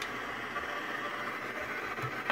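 A Frank's box ghost box sweeps rapidly through radio stations, producing a steady hiss of broadband static with brief choppy blips, moderately loud and continuous throughout.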